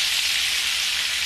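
Fish sizzles steadily in a pan, a loud, close, continuous hiss of hot oil with no pauses, no voices, for a carnivore-style fish and chips meal.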